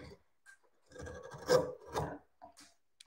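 A wide woodcarving gouge slices into an offcut while a wing edge is being thinned, giving a few close, short rasping cuts in quick bursts with small gaps between strokes.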